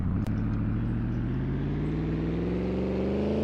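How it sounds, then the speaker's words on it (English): A classic car engine in the video game Greenville drones steadily, its pitch rising slowly as the car accelerates. The loud, continuous hum comes after one brief click at the start. "Why do all the classic cars make that noise?"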